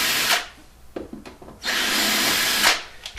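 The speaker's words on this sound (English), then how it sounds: "I can slide this up and I can finish drilling those holes in there." A power drill bores holes through fiberglass to fit a rod holder, loud and close, with a short burst and then a longer sustained run, separated by quieter handling knocks and scrapes.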